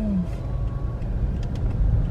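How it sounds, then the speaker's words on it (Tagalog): Heavy road traffic of cars and other vehicles rumbles steadily nearby, a loud low continuous drone with a brief higher tone at the start. "Grabe yung traffic, guys."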